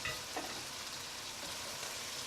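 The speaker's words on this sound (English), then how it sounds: "give them a good fry on high heat because we need to draw out the moisture from the mushrooms" Mushrooms fry on high heat in a pan, giving a faint, steady sizzle with a few soft stirring scrapes and no voices.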